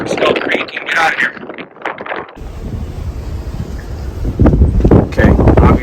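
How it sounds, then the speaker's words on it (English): Strong wind buffets a yacht under way on an offshore delivery passage, gusting roughly against the microphone in loud rumbling bursts, with someone talking over parts of it. "So you can tell it's quite windy out."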